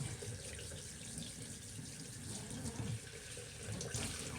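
Tap water runs steadily into a bathtub while a dog is rinsed, a constant close splashing rush with no pauses and no talking.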